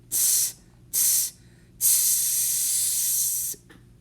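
A voice imitates a rhythm with sizzles: two short, crisp hisses are followed by one longer sustained hiss. The sizzles are clear and close with quiet gaps between them.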